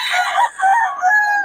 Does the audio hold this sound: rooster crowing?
yes